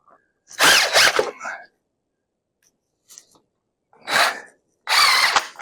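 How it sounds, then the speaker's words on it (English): Several sharp, loud hammer strikes in two bursts, hammering down a wire on a four-wheeler winch, close by, with a brief quiet gap between them. "I'll hammer that down."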